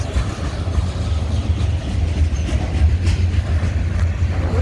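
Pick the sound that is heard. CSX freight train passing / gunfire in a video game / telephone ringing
CSX freight train passing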